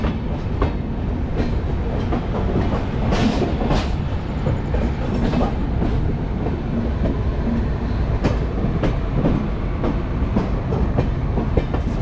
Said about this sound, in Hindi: और ये है गोंडा स्टेशन जहाँ पे हमारा अराइवल हो रहा है।